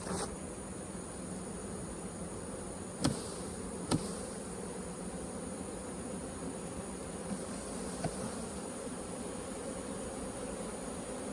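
Honey bees hum around a hive in a dense, continuous buzz that fills the whole stretch, with a couple of faint knocks from hive equipment.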